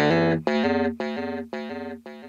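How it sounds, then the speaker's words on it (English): Electric guitar with a harsh, metallic ring-modulated tone through a fully wet delay, chopped into five evenly spaced repeats that decay one after another with no clean note underneath. "So only the wet ring mod sound is gonna have repeats"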